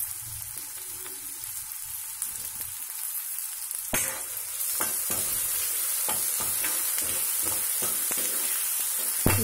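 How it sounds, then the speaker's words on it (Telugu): Onions frying in a pan for a raw cashew curry, with a steady close sizzle and repeated scraping knocks of a spoon stirring through them, and no talking. "ఆనియన్స్ వేగుతున్నాయి."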